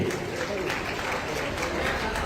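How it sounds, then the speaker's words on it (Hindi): An audience at a Rajasthan award ceremony applauds Shri Deshraj Gurjar, a sustained, dense round of clapping from a crowd in a hall, loud and continuous throughout. "तालियां श्री देशराज जी के लिए।"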